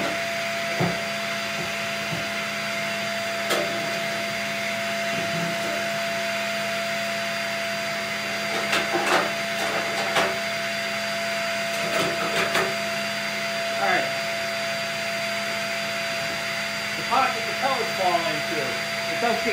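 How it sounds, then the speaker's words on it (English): Vacuum cleaner whirring steadily while clearing caked ash from the burn pot of a Castle Serenity wood pellet stove, with brief clanks and scraping of the nozzle against metal parts and a person talking intermittently over the motor. "Take your vacuum. Rub it out of there so you can see all the way through."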